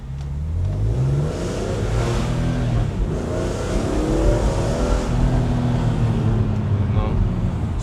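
An E46 BMW M3 engine revs loudly and steadily up through its range toward high RPM, its rising drone filling the whole stretch with no pauses.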